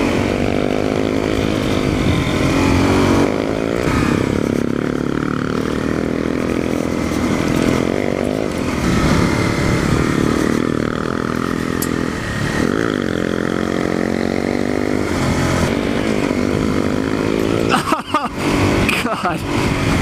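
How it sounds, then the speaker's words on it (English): Dual sport motorcycles ride off on a dirt road, loud close engine drone with revving that rises and falls throughout, a rider talking over the noise. "Garrett's gonna ride in front of me now."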